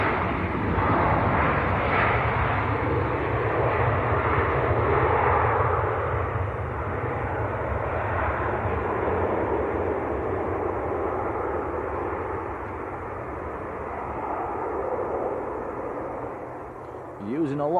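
An old 300-series airliner in red and silver livery takes off down the runway at Leeds Bradford Airport, its loud, sustained engine roar filling the whole stretch and easing off slightly toward the end, with a voice talking faintly beneath.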